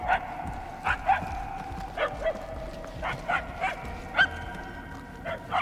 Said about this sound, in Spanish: Los ladridos se debilitan. Cuesta un poco seguirlos.